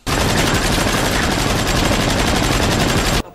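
Sustained automatic gunfire from an action movie, a loud, dense burst of rapid shots running continuously for about three seconds before cutting off abruptly.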